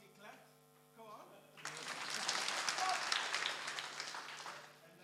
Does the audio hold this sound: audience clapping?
yes